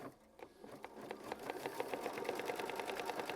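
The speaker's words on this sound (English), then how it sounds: "we're going to flip it over and we're going to sew machine stitch step 6" Faint, quick rhythmic stitching from a sewing machine tacking down fabric on a flip-and-fold quilt block, a steady run of light mechanical ticks.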